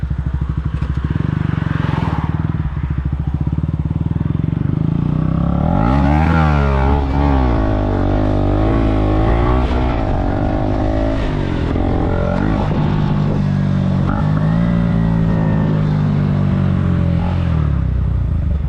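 A 125cc motorcycle revved hard for a wheelie, its engine loud and close throughout, with rising and falling rev sweeps, a sharp throttle burst midway and a rough idle between pulls.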